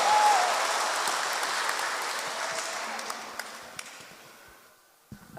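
A church congregation at a Kikuyu service applauds for Jesus Christ, a broad, loud wash of clapping that slowly fades over several seconds before dying out near the end.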